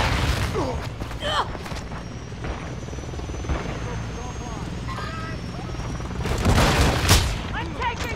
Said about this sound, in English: Damn. I'm taking fire.